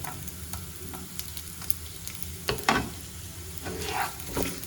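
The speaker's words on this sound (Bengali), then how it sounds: "নারকেলটা দিয়ে ভালোভাবে ব্রাউন কালার যতক্ষণ না আসে ততক্ষণ পর্যন্ত ভেজে নেব" Chopped coconut fries in hot oil in a wok, giving a soft steady sizzle with scraping stirs and spoon clanks that grow busier toward the end, with no voices.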